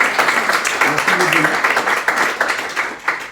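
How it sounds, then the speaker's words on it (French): A small group applauds after being asked to thank a guest at a French business gathering, the steady clapping continuous and fairly close, with a voice speaking faintly underneath for a moment. "j'aimerais déjà tout de suite qu'on le remercie et qu'on fasse des applaudissements"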